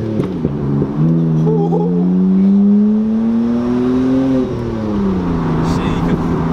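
A BMW E90 328i with its catalytic converter, resonator and muffler removed makes a loud, close exhaust drone that rises and falls as the engine revs, with voices heard over it.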